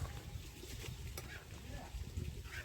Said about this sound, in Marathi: परत एकदा हे छान असं ढवळून घ्यायचं